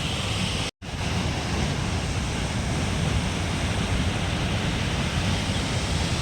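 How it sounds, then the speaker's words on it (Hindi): Water overflows from a dam spillway in Uttarkashi, Uttarakhand, as a loud, constant rushing roar that fills the whole stretch, broken only by a momentary dropout near the start. "तो फ्रेंड्स, ये रहा वो स्पिलवे जो डैम से पानी को ओवरफ्लो पानी को बाहर इंजेक्ट करता है।"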